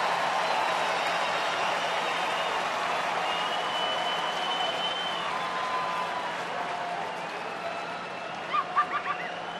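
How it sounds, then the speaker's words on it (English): Baseball stadium crowd at a Detroit home game against Anaheim, a steady broad roar of cheering and clapping from thousands of fans, with a few sharp whistles near the end. "Crowd's starting to get into it now."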